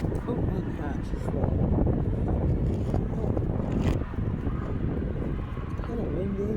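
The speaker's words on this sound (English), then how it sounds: "kind of windy." Outdoor wind buffets the microphone in a steady, loud low rumble throughout, with gusts swelling and easing while a person talks over it.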